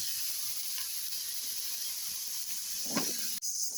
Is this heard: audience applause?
no